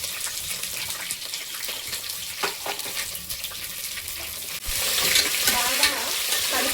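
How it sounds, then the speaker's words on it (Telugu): Onions with green chillies sautéing in a pan for vegetable bagara rice, a steady loud sizzle under repeated scraping stirs, close up and growing louder near the end, with no voices. "బాగా కలిపేసి ఆనియన్ కొంచెం మగ్గాలి"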